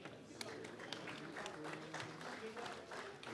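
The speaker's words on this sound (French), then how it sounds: "je pense qu'on peut l'applaudir" Council members applaud a newly installed president after his election at a community council installation session, a steady moderate round of clapping with some voice murmur mixed in.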